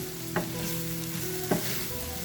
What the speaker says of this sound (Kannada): ಈಗ ಸ್ಟವನ್ನು ಆಫ್ ಮಾಡಿ ನೀಟಾಗಿ ಮಿಕ್ಸ್ ಮಾಡ್ಕೊಳ್ಳೋಣ